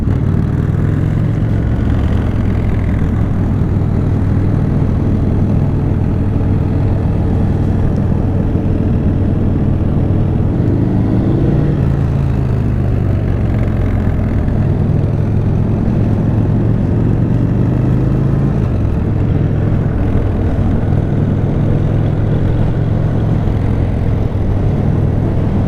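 Sport bikes and Harleys riding together at a Harley meetup: a dense, steady, loud roar of many engines running at once, rumbling continuously without a break and without voices.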